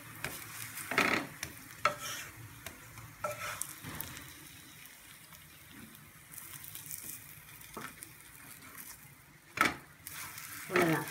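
Biscuit bholi, a sweet flatbread, fries in a pan with a quiet, steady sizzle, broken by a few sharp scraping and stirring clicks close by.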